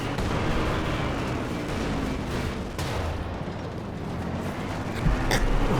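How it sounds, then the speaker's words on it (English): A high-explosive artillery barrage from Company of Heroes 2: a dense, continuous rumble of shell blasts and gunfire, loud and steady throughout, with a heavier impact swelling near the end. "He's using the HE barrage on this."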